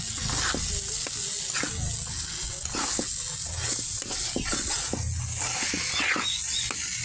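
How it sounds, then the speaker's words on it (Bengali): A spoon stirring tomato chutney with chopped coriander in a pan, giving a steady sizzle with repeated soft scraping taps throughout. "দেখুন ভালো করে নাড়াচাড়া দিয়ে নিচ্ছি"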